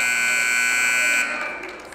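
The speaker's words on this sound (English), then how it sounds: "the buzzer's about to sound" A loud, steady electronic buzzer blares for over a second, then cuts off, leaving crowd noise in the background.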